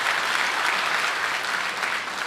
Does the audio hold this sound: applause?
yes